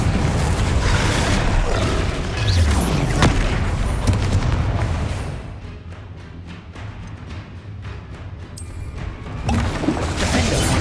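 Bombarda and Confringo spell blasts in Hogwarts Legacy give heavy booming explosions and crashing debris, loud and near, easing into a quieter rumbling stretch with crackles before swelling again.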